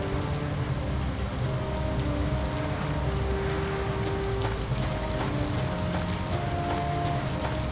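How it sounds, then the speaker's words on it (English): A storm in the adventure game A Golden Wake: loud, steady rain drums on surfaces without a break, with a low rumble beneath it and faint background tones. "We must be entering the eye of the storm."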